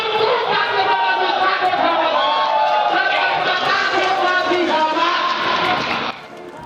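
Banser protest crowd in front of the KPK building, a dense loud mass of shouting and cheering voices that carries on without pause and then drops sharply near the end.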